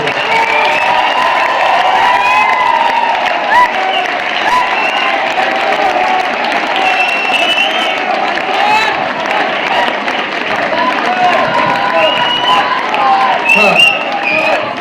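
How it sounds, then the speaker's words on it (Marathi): A large audience at a lavani dance performance applauds and cheers, a dense, steady roar of clapping and voices that holds at full strength from start to finish. "उभं राहून टाळ्या वाजवल्या पाहिजे."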